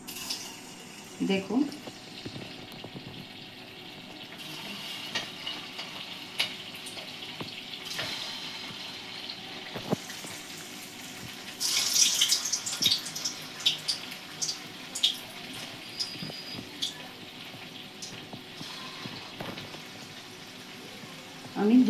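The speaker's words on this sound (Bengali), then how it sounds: "এবার একটা একটা করে আমি ভেজে নেব।" Semolina pantua sweets sizzle one by one in hot oil in a kadai over a low gas flame, a steady bubbling hiss with a louder burst midway, while someone speaks briefly.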